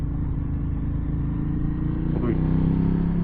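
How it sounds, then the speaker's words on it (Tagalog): A 2025 Ducati Panigale motorcycle engine idles and rumbles steadily nearby, rising briefly in a short rev near the end. "Grabe ito ng motor ni Nico, ah. Ang tapang. At least may tunog."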